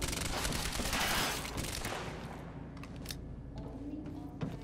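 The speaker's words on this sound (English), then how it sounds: "it was a burst fire pistol" Burst-fire pistol shots in the action video game Quantum Break, a dense loud volley of rapid cracks that fades into a quieter tail with a few scattered sharp pops.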